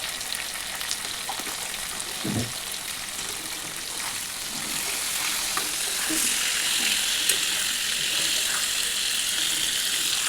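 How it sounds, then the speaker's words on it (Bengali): Mango pickle being stirred in a pan after salt and turmeric go in, a steady close sizzle and fry running throughout with occasional soft scrapes of stirring, growing slightly louder toward the end; no one speaks. "তো নুন আর হলুদটা দিয়ে অ্যাড করে দিয়ে আমি আবার কিছুক্ষণ নাড়িয়ে নিচ্ছিলাম।"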